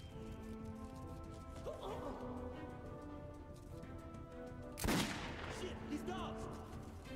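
Gunfire in the shooter video game Metro 2033: one sharp, loud shot stands out midway through a steady bed of game ambience and music, followed by fainter after-sounds.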